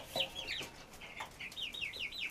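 Backyard chickens in a small flock of about fifteen birds, rooster included, give repeated rising clucks and short calls close by, in two clear runs with a brief pause between.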